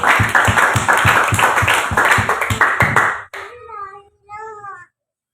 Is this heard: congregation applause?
yes